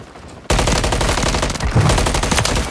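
Automatic gunfire starts abruptly and keeps going as a loud, continuous rapid stream of shots at close range.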